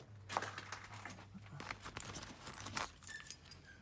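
Keys for a 1978 Datsun 1500 Ute GN620 jangle and clink in several quick bursts, close and fairly quiet, with small rustling handling noises between them.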